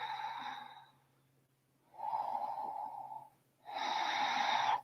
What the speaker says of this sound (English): 3 slow, deep breaths.